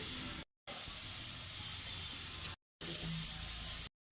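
Mustard oil sizzling in a pan while cooking flat beans with nigella seeds and green chilli, a steady close hiss broken by two short gaps.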